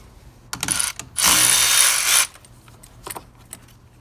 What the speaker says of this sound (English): first thing we need to do is just disconnect the battery using a 10mm socket